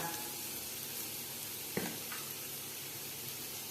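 Spice powders sizzle in hot oil in a pan while chicken kondattam is being made, a steady close frying hiss throughout, with one brief clatter as powder is tipped in near the middle.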